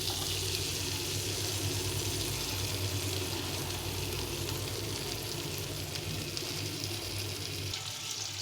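Chopped garlic sizzles in butter in a nonstick pan, making a continuous, even frying hiss at close range with no voices present.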